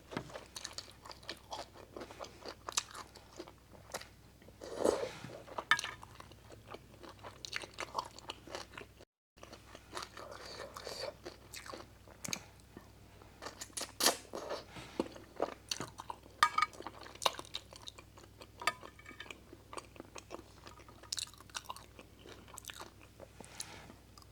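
Someone eats soy-sauce pickled blue-backed fish for the first time, close, wet chewing and crunchy bites repeating steadily throughout with brief pauses and no talk.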